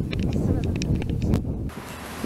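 Outdoor wind gusting against a microphone, loud and steady, with flags flapping nearby; a brief burst partway through before the rush settles into a softer, even hiss.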